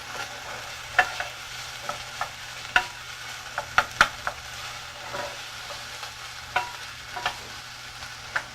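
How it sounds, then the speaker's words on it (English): Ingredients for quinoa and black beans sauteing in a pan, a soft, continuous sizzle broken by scattered clicks and scrapes of stirring, quiet and close. "We're just going to let this saute. We want it to be lightly browned."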